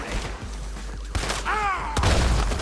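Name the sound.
gunfire in the video game Red Dead Redemption 2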